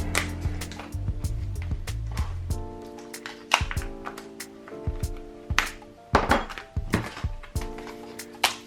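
New M249 machine gun parts for a pistol grip assembly are unpacked, giving close knocks, taps and hard thunks of metal and packaging at an uneven pace over a background hum.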